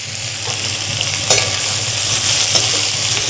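Curry leaves sizzling in hot oil for tomato pidi kozhukattai, a loud, dense, continuous frying hiss with a few sharp pops and crackles, close up and alone.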